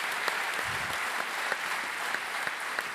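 Sustained applause from a theatre audience at an economy and development awards ceremony, a dense steady wash of many clapping hands held at an even level throughout.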